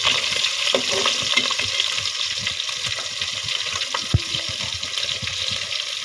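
Surma fish sizzle in hot oil, a steady broadband crackle with scattered pops and occasional utensil scrapes, close and continuous with no talking.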